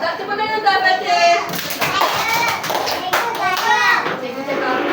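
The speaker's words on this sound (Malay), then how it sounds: "tepuk tangan untuk Al-Fatih" Schoolchildren in a classroom clap for a classmate, a burst of scattered applause mixed with children's chatter and an adult voice talking throughout.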